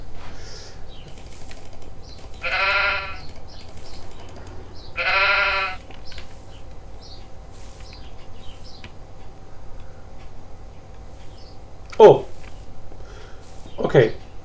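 Two sheep in the video game Minetest bleat in turn, each a short, wavering cry, over a quiet ambient hum, followed by two sharp clicks near the end.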